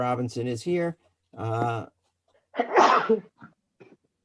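A sneeze bursts out at a public forum meeting held over a call, a single loud noisy blast after a few seconds of plain talk, followed by faint breaths.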